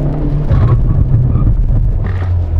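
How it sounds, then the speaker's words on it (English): A Hyundai Veloster Custom Fit Extreme Driving Edition braking hard while driving, heard as a loud steady low rumble of engine, road and tyre noise with no talk. "When you do full braking like this"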